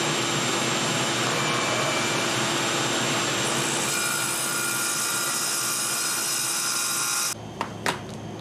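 A table saw runs with a steady loud whine and roar while its blade cuts a wooden box lid free from the carcass, continuous and close, then it cuts off abruptly, followed by a couple of light knocks.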